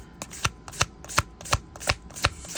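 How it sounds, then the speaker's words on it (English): An Animal Oracle card deck being shuffled up close, with quick rhythmic riffling bursts repeating about every third of a second. "I want to get one more card here from the Animal Oracle deck for encouragement"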